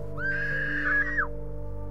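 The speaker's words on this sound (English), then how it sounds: "That was a woman's scream." A woman's high, sustained scream rising and then sliding down, heard at a distance in a film scene set in 1844, with a steady low hum beneath it and no talking.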